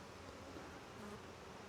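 Honeybees buzz in a hive fitted with comb cartridges, giving a faint, steady droning hum with no pauses or talk.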